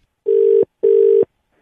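A telephone ringing, two loud electronic rings of equal length separated by a short gap, steady-pitched and close, with nothing else around them.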